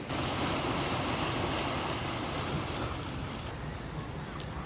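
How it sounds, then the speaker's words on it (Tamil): Sea waves washing against the shore near the fort at Saint-Malo, Brittany, with the tide coming in: a steady, loud rush of surf mixed with wind noise. "பார்த்து கொண்டிருக்கு கடலில் தண்ணி ஏறி கொண்டிருக்குது"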